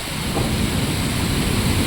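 Heavy monsoon rain comes down hard in a steady, loud roar, a dense unbroken wash of water.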